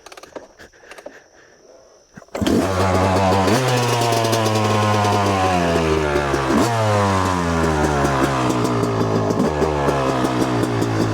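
A dirt bike engine starts up after a quiet moment, then runs loud and close with repeated throttle revs rising and falling steadily.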